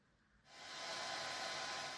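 A hair dryer switches on after a brief quiet moment, then runs as a loud, steady, close airy whoosh through the rest of a wash-day session in winter.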